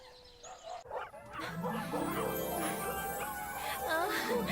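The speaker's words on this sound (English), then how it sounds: "There's a lot of dogs." Several dogs bark and yip in the puppy video game My Little Puppy, short overlapping barks mixed with game music and a speaking voice, fairly close and continuous.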